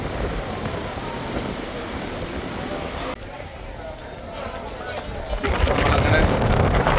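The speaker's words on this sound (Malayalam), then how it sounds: "കാറ്റേ ഭയങ്കര കാറ്റ്." Strong wind buffets the microphone on a cable car ride at Langkawi, a loud rushing roar that eases briefly and then surges again, with speech heard in places.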